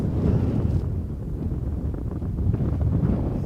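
Strong gusty wind buffets the microphone outdoors on an open mound near an airport, giving a heavy, continuous low rumble that swells and eases.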